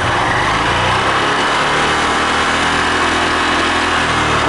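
A Honda Titan 150 motorcycle engine with a discharged battery runs steadily to recharge it, a loud continuous buzzing idle close by with no variation in pitch or speed.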